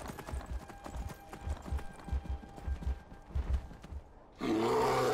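Heavy rhythmic thumping footsteps of a bear approaching from behind in the video game Skyrim, a steady series of low thuds, then a louder dense burst at the end.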